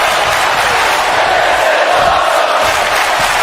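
Arena crowd chanting in the WWE 2K25 wrestling video game during a SmackDown tag match, a steady, loud wash of massed voices that continues without a break.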